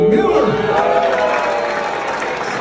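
A crowd at a company meeting bursts into loud cheering and applause, starting with a strong surge and then settling into sustained clapping and whoops.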